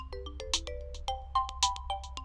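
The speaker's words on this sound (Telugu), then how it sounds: "ఫోన్ మోగుతుందిరా" A mobile phone ringtone rings, heard as a quiet, rapid melodic sequence of bright electronic tones repeating with no talking over it.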